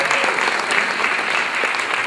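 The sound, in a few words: audience applause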